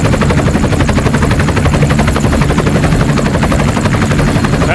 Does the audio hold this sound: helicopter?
yes